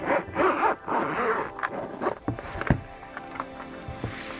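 Zipper being pulled open on a solid, rigid protective case for Sennheiser Momentum 4 Wireless headphones; several close, scratchy zipping strokes followed by soft handling rustles and a light knock.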